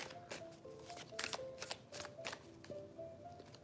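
A deck of cards is shuffled in repeated riffles and bridges during a reading, with crisp bursts of flapping cards close by and a faint tonal hum underneath, no talking.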